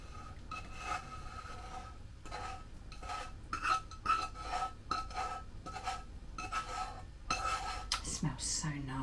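A spoon stirs and scrapes through cake batter of milk, egg and golden syrup in a bowl, with soft irregular knocks and rubbing strokes, faint and close, while someone talks quietly.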